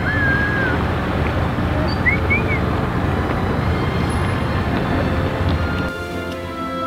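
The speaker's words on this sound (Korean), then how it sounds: "파도 소리, 그 사이사이를 메우는 해녀들의 숨소리까지" Sea waves wash continuously off the winter East Sea coast near Ulsan, a broad steady surf noise, with a few thin, high whistling breaths of haenyeo (Korean women divers) rising briefly above it, faint and distant.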